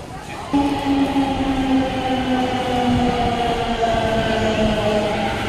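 A train sits at a railway station, a steady loud rumble with sustained tonal whine and hum lines running throughout after an abrupt onset.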